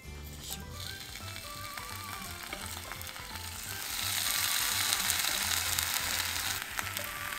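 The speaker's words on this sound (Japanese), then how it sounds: "ベーコン焼いていきます" Bacon frying on a hot iron griddle at a campsite, a steady crackling sizzle that swells louder and denser partway through, with faint background tones underneath.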